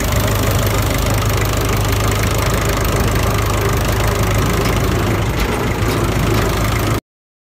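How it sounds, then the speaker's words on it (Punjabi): A tractor engine runs loud and close during a wheat harvest, a steady, unbroken diesel rumble with a knocking texture that holds constant before cutting off abruptly. "ਹੁਣ ਦੇਖਦੇ ਹਾਂ ਟਰੈਕਟਰ ਜਾਂਦੇ"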